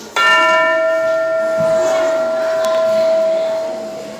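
A single bell strikes loudly and rings out with a sustained, clear tone that slowly fades over several seconds.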